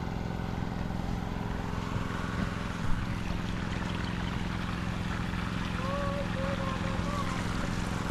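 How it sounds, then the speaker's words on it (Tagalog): Engines, including a Robin engine used for irrigation, run in a continuous, even drone with a steady low hum, mid-distance and unchanging throughout, with no speech. "Okay, maandar na yung mga makina."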